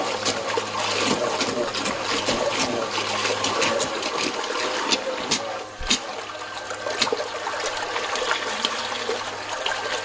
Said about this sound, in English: and the pump comes on.